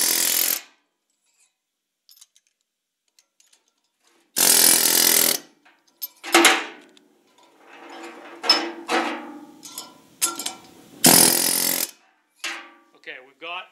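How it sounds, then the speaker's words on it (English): Valve guides in a 454 big block cylinder head being broached, heard as short bursts of harsh grinding and scraping separated by quiet gaps and small clanks of handling. "we've got all 8 guides broached"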